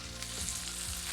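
Mahi mahi fillets frying in a pan, a continuous crackling sizzle of hot oil with fine spitting pops, close and even throughout.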